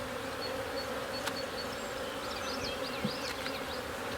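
Honeybees hum in a thick, constant buzz close by as a beekeeper inspects hive frames, with individual bees whining past and a couple of faint knocks of frames being handled.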